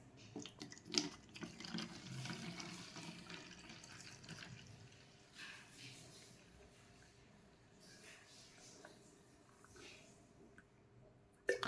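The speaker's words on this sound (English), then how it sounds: "So let me just quickly go ahead and add the water to it." Water pours into the bottle of a 64V cordless pressure washer, a faint, steady splashing and trickling that is strongest at the start and then fades, with little else around it.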